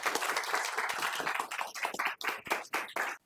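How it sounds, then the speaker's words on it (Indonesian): A class claps for a student, a brief burst of fairly close applause that thins into a few separate claps before stopping. "kasih aplaus dong untuk Bang Mutia"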